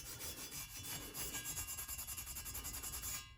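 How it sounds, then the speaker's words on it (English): A Scotch-Brite pad scrubs lightly over an aluminum engine surface, making quiet, close, rhythmic back-and-forth rubbing strokes in quick succession. "I like to go over it with the Scotch-Brite very lightly, just to completely smooth it over"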